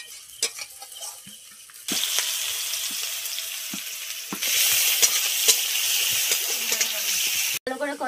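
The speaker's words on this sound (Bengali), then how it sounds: "এবার মাছগুলো নুন হলুদ মাখিয়ে ভেজে নেব" Fish coated in salt and turmeric fry in hot oil, a loud hissing sizzle that starts abruptly and swells louder midway, with clatters of a spatula before it begins.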